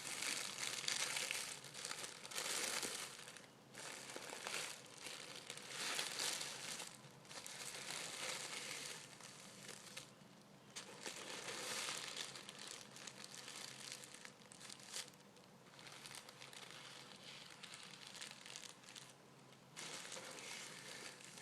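Close, soft paper folding and crinkling goes on steadily in an intimate ASMR setting, with continuous crackly rustling in uneven bursts and brief quiet gaps, without talk.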